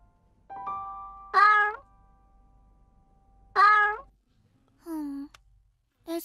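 Anta, a hungry cartoon cat, meows four times, each a short tonal mew separated by pauses, the first rising from a faint thin note and the last lower and shorter.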